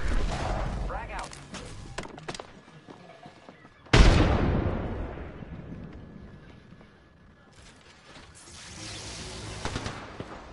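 A frag grenade goes off in the battle game Apex Legends. One sudden loud blast is followed by a long fading rumble, with gunfire and game noise before it and more clatter near the end.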